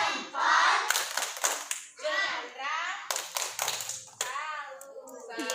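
At a kindergarten, young children do the tepuk salut clapping game, chanting in sing-song voices while bursts of sharp hand claps fall in rhythmic groups between their lines, close and lively.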